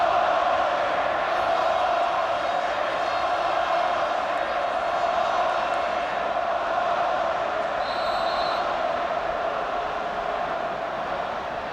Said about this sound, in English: Crowd making it fairly clear